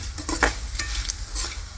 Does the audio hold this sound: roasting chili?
yes